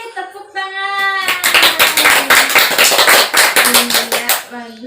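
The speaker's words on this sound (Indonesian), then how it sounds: "Sekarang beri tepuk tangan." A classroom of students claps together in a burst of brisk, close applause lasting several seconds, with a voice speaking just before and after.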